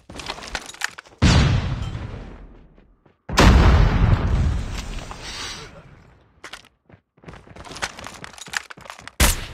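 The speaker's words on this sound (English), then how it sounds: "Flashbang!" A flashbang grenade goes off in Call of Duty Mobile Search and Destroy, two loud booming blasts with ringing decay, followed by scattered gunfire and game effects.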